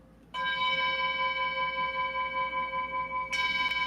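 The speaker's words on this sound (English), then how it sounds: "that's Insight Timer's bell" The Insight Timer meditation bell, struck in a travel trailer, rings with a clear sustained tone that hangs steadily for about three seconds before a second strike adds a fresh, brighter ring.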